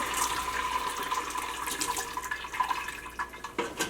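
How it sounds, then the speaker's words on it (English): Seitan cooking water is poured into a pot to drain, producing a continuous splashing gush of liquid that stays fairly steady for several seconds before trailing off into uneven splatters. "I'm just going to take our Seitan water and I'm going to pour it into the pot to"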